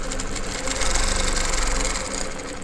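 Domestic or longarm sewing machine stitching rows of quilting along a wave-shaped machine quilting ruler, a steady close mechanical hum with rapid needle chatter that swells slightly midway and runs continuously without talk.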